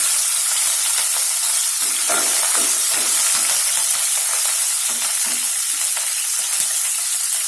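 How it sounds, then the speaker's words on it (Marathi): Curry leaves hitting hot oil already holding golden-fried green chillies and garlic, a loud, dense, continuous crackling sizzle with short bursts of spitting throughout, close up and without talk. "याच्यात आपण कढीपत्ता टाकून घेऊया"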